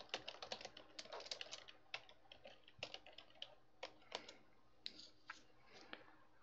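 Irregular keystrokes on a computer keyboard, quick bursts of clicks followed by scattered single taps, close and fairly quiet with no talking.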